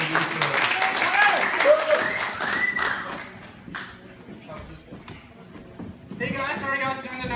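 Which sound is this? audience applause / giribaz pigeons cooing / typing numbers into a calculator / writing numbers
audience applause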